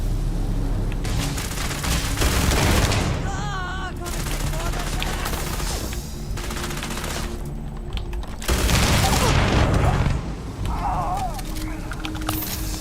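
Bursts of gunfire and booming explosions crackle in loud waves over a continuous battle din, with synthetic game effects between blasts, in the video game Starfield.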